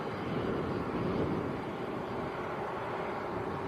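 A Jet2 airliner lined up full length on the runway at Manchester Airport, its engines giving a steady, broad roar that holds at an even level throughout, heard from a distance with no voices.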